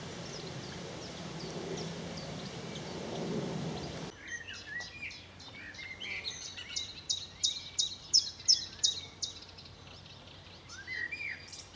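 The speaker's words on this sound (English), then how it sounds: "Sedge warblers over there now." Sedge warblers and other birds sing in a spring nature reserve, with busy chirps and trills close by after an opening stretch of soft rustling, the calls rising and falling in quick bursts.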